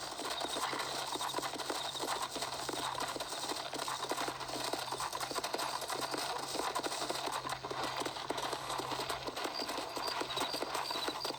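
Horse hooves clip-clop at a steady gallop in Red Dead Redemption, a loud, continuous rhythmic pounding with no voices over it.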